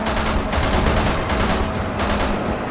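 Video game gunfire from Resident Evil 6 during a helicopter chase level, loud dense bursts of automatic shots layered over constant game action and noise, with no talk over it.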